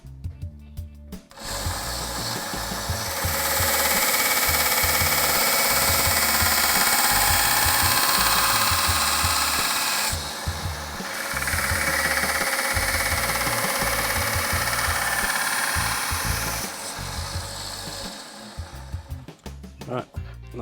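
A power tool grinds the second bevel of a knife blade held in a jig, a loud sustained whine that runs for long stretches with short pauses between passes.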